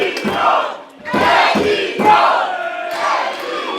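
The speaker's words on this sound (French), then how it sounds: "on peut entendre la foule, la partisane, aller envers le côté à Emilio" A loud wrestling crowd at a JCW No Limit 2026 match roars and chants in surging waves for Emilio, with repeated swells of cheering and shouting filling the hall.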